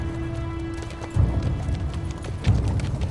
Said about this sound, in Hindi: घोड़े लेकर आओ जल्दी।